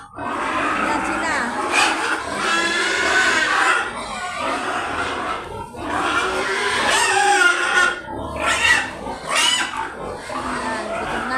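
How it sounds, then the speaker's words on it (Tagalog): Hungry pigs squealing and crying in a new pen, a continuous loud chorus of overlapping shrill squeals close by, with someone speaking over them. "Iyak na iyak, gutom na. Gutom na mga baboy."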